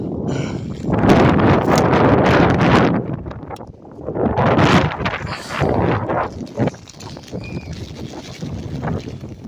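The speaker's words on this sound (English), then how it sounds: "The wind is too strong." Strong wind gusts outdoors buffet the microphone with heavy, roaring bursts that rise and fall throughout.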